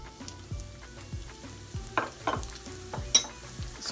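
Semolina being stirred and dry-roasted with cardamom in a pan for halwa: close, rhythmic scraping strokes about every half second, with a soft sizzle underneath.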